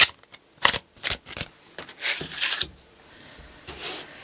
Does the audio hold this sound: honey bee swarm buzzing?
no